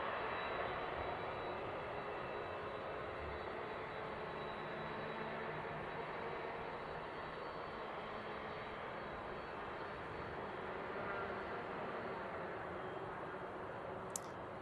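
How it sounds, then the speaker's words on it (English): A Boeing 777 widebody jet takes off from Seattle airport, bound for Taipei. Its engines give a steady, fairly distant roar that holds evenly for about fifteen seconds. "there goes our 777 off to Taipei"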